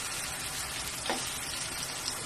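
Tofu (tokwa) fries in a pan with a dense, steady sizzle that stays even throughout, close and alone without voices.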